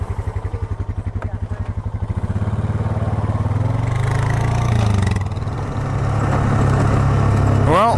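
An ATV engine drives along a power line trail through hilly country in British Columbia, a loud steady chugging motor that revs up partway and stays close, with people talking over it.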